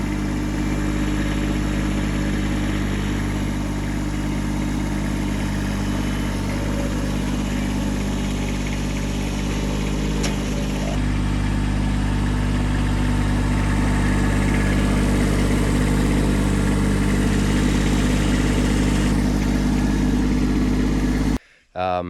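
A tractor engine idles steadily up close, a continuous low rumbling drone that holds for the whole stretch before cutting off abruptly at the end.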